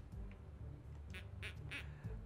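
A duck in a video game quacks several times in quick succession, short nasal bursts over a faint low background hum, with no talking.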